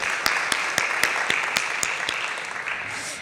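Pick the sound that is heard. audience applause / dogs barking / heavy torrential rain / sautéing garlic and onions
audience applause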